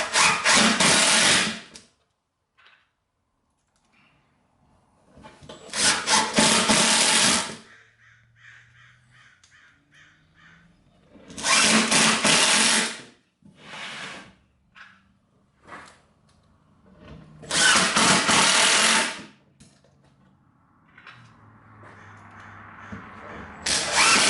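Confirmat screws are driven into a frameless upper cabinet box with a power drill, four loud close bursts of whirring and grinding several seconds apart, separated by quiet handling and small knocks.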